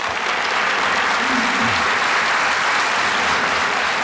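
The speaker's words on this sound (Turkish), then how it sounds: "kocaman bir alkış" Studio audience at a Turkish comedy show breaks into loud, sustained applause, a thick wash of clapping that holds steady at close range for the whole stretch.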